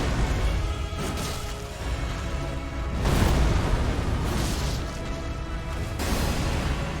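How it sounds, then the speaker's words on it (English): A big explosion from a boss attack in the Elden Ring video game booms out as a loud, sustained rumbling roar with several heavy surges, dense and continuous throughout. "There's the big explosion."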